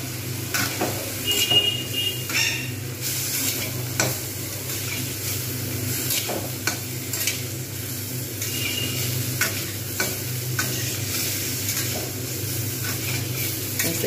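Shrimp frying in oil in a pan over high heat, stirred with a spatula: a steady close sizzle broken by repeated scraping and tapping clicks against the pan.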